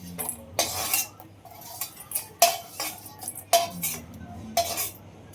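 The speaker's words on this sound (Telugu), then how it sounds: "ఇప్పుడు వాటిని ఫ్రై చేసేసుకున్నాం కదా ఇంకా అన్నీ తీసేసి ఒక బౌల్లో వేసేస్తున్నాను" Fried dried fish and prawns are scooped from a pan into a bowl, with repeated close metallic scrapes and clinks of a utensil against cookware in an uneven rhythm.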